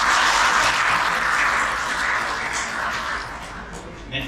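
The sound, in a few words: audience applause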